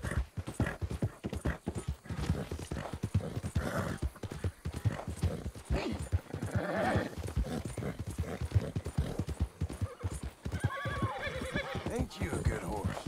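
A horse in Red Dead Redemption 2 trots along with steady clip-clopping hooves throughout, then neighs loudly near the end, with a player's voice talking over it.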